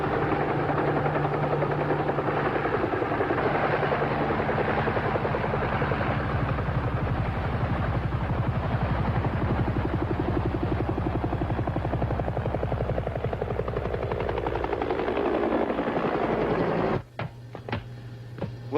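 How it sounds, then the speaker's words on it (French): A helicopter thrums loudly and continuously with a steady rotor beat, its pitch dropping gradually as it descends, then the engine noise cuts abruptly near the end leaving intermittent clicks. "Autorisation d'atterrir à hélicoptère."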